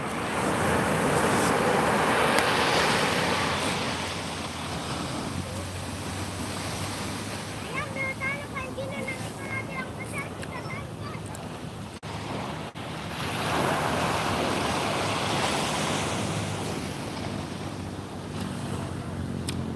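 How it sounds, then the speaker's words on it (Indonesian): Strong ocean waves surge and break at Senggigi beach, a loud, continuous roar of surf that swells and eases in broad waves alongside wind noise, with a faint voice briefly underneath. "Ombaknya kencengan di sini ya."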